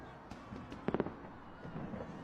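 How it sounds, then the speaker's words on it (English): Fireworks going off over a city in chaos: a quick cluster of sharp pops near the middle, with scattered fainter bursts and a low background rumble around them. "With all the fireworks and half the city in chaos?"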